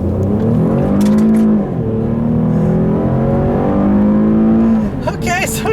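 A 2017 Buick LaCrosse with a 3.6-liter V6 accelerates hard in sport mode on a back road, the engine note rising steadily through a gear before a brief dip, loud and close from inside the cabin.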